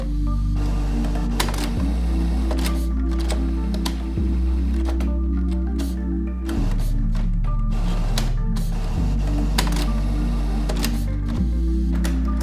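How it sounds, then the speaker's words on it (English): A Canon PIXMA printer powers down after a voice command, giving off repeated mechanical whirring and clicking cycles that shift pitch every couple of seconds and run loud and steady throughout, with no talking. "Turning off your printer now."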